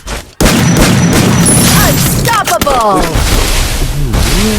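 Loud gunfire and booming explosions in a Free Fire ranked match, with heavy blasts and rapid shots filling the clip, plus whooshing effects and game sounds layered on top.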